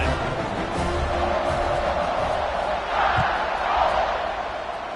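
Stadium crowd in an American football video game, a dense continuous roar of cheering fans that swells slightly toward the end, heard under faint commentary.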